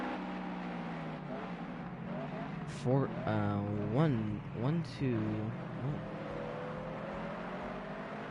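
Race cars drive down pit road in a racing video game's Rockstar Energy Cup series event at Spa, their engines a steady droning hum beneath continuous commentary, with brief surging tones as cars pass.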